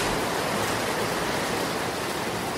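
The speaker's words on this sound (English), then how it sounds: "This is like a crap waterfall." Sewage water rushing like a waterfall in an underground Paris sewer, a loud, steady, dense roar of churning water filling the whole space without a break.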